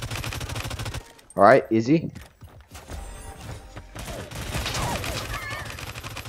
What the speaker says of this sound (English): the legendary SMG is actually not half bad